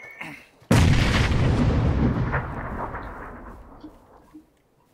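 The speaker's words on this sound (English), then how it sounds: "Oh shit, grenade!" A grenade detonating in the battle royale game PUBG on the Sanhok map, one sudden heavy boom that rolls and decays over several seconds, loud and close, with no talk over it.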